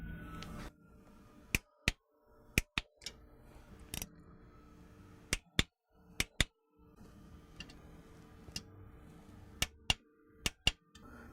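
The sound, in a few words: torque wrench tightening differential cover bolts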